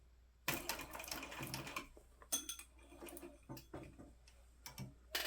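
Sewing machine stitching a Breeze handbag near the side seam, short bursts of rapid mechanical ticking and clattering separated by pauses, close and fairly quiet.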